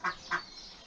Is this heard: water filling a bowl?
no